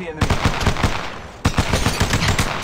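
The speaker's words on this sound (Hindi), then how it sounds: "मेरे पे फायर कर रहे हैं गोलियां" Rapid automatic gunfire from Apex Legends Mobile, loud bursts of repeated shots in quick rhythm, with a short pause before another sustained volley.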